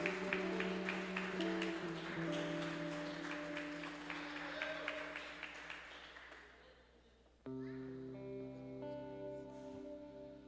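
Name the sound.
church congregation applauding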